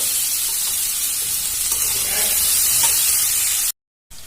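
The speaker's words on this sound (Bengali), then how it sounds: "আমি আলুগুলো লাল লাল করে ভেজে তুলে নেব।" Potatoes frying in hot oil for a vegetarian cabbage dish, a loud, even hiss of sizzling that runs steadily, then cuts off abruptly near the end.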